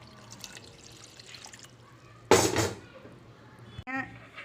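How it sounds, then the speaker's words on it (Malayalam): Water is poured into a pan for boiling eggs for an egg biryani: a brief, fairly loud splashing rush in the middle, then a short clink-like sound over a quiet kitchen background. "പാനിൽ വെള്ളമൊഴിച്ച് ഈ മുട്ട പുഴുങ്ങാൻ വേണ്ടി വയ്ക്കാം"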